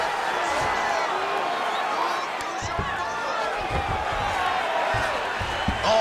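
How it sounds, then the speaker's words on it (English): UFC arena crowd rumbles and cheers continuously as fighters rise from a grappling exchange on the mat, a loud, sustained roar with scattered shouts and occasional thumps. "big pop from the crowd as they get back to their feet after a pretty scintillating grappling battle there on the ground"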